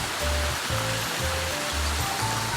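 Water runs steadily at Sa Noi waterfall in Na Yung–Nam Som National Park, a close, even rushing wash over the whole clip with no voices.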